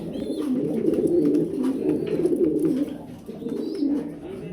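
Pet pigeons, a grizzle male and a blue female, coo steadily in low, throaty rolling phrases close by, with a brief pause near the middle before the cooing resumes.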